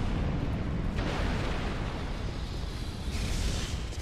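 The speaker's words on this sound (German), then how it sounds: "weil diese Dinger einfach in nichts explodieren und dann so ein Blitz hinterlassen" Explosions in Dark Souls 2 come through as a loud, continuous roaring rumble with no separate bursts and no talk over it.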